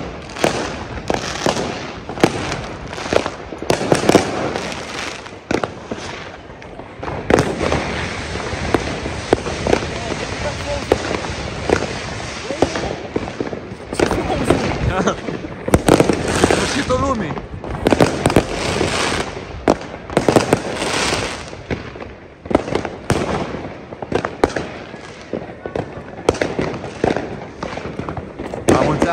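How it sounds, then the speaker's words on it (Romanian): New Year fireworks in Germany crackling and popping densely and continuously, many overlapping bangs and sharp bursts at close to mid range, with voices in the background. "Focul de artificii din Germania."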